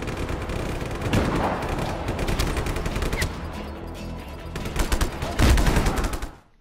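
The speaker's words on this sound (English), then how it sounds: "I threw the grenade instead, but it worked out perfectly" Chaotic combat in Just Cause 3 with rapid gunfire bursts and a heavy grenade explosion near the end, loud and dense throughout before cutting off abruptly.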